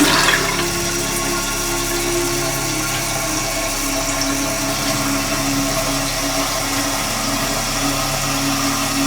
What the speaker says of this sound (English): Imagine your troubles flushed down my toilet.